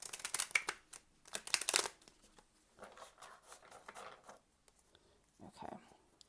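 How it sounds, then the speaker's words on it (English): A deck of oracle cards is riffle shuffled in two quick, crisp bursts of fluttering card noise, followed by quieter shuffling and handling sounds, with no talking. "Let me riffle one more time."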